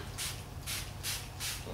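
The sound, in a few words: spraying rust converter from a can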